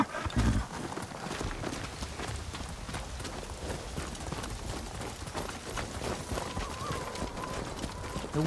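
Rapid hoofbeats of horses in the video game Ghost of Tsushima, clattering along steadily, fairly close, with a busy rumbling background and no talking.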